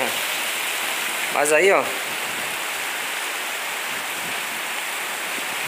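Heavy night rain in Queimadas, Paraíba, Brazil, pours as a steady, dense hiss of water throughout. Someone briefly speaks over it.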